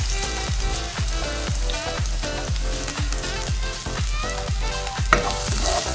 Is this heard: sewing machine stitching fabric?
no